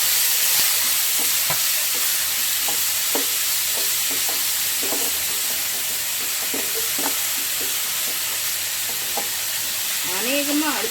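Sliced onion and capsicum stir-fry in a hot pan for veg momos, a constant loud sizzle with scattered soft taps and scrapes of a stirring utensil throughout.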